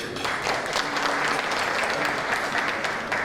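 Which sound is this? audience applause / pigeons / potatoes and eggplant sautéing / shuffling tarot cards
audience applause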